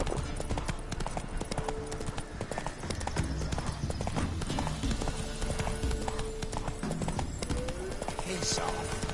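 The horse Roach trots in Witcher 3, a continuous clip-clop of hooves running through a busy game soundscape with voices talking over it.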